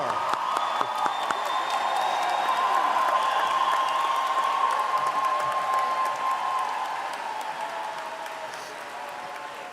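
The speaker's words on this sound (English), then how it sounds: "I think we could have a little more applause." A large commencement crowd applauds and cheers the graduating class of the School of Health Professions and College of Nursing, steady dense clapping with scattered whoops, holding strong then easing off.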